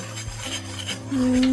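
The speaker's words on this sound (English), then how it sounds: "you're gonna get a whisk. You're just gonna get it all stirred up nicely." Whisk stirring pumpkin pancake batter with allspice and salt in a bowl, a close, continuous scraping and clinking of metal against the dish with a steady circular rhythm, growing louder toward the end.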